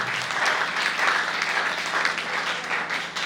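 A church congregation applauding the Lord, loud continuous clapping from a large crowd that stays steady for several seconds with no break.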